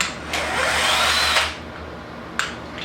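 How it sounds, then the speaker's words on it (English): An impact wrench whirs loudly for about a second on a bolt of a Nissan 350Z engine being taken apart, then it goes quiet and a short sharp rattle follows, close up. "let's see if we can impact this bolt right off"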